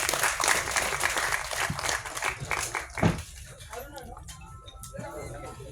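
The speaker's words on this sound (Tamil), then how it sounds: "கரகோஷங்கள்." Audience applause at a film audio launch event in a hall, a loud burst of clapping that fades after about three seconds into quieter room sounds.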